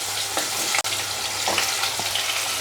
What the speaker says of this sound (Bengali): আলুগুলো একটু ভাজা হোক